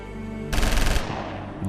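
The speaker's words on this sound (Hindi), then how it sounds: "2 मिनट तक आतंकी बरसाते रहे गोलियां।" Rapid burst of automatic gunfire in a terrorist attack on a bus at night, loud and dense for about half a second, then echoing decay with a final short crack; no voices.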